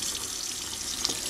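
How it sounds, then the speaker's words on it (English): Warm water runs steadily from a tap to rinse etched glass at a sink, a continuous close splashing flow with one brief brighter splash near the end and no talking. "I'm gonna use warm water to rinse it off."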